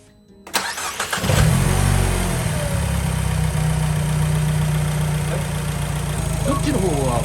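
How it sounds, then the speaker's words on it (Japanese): Used Italian car bought cheaply, after fuse, ground and battery terminal replacement: the engine cranks briefly, catches and settles into a steady, fairly loud idle, with people talking nearby. "エンジンでかけてみましょうか。"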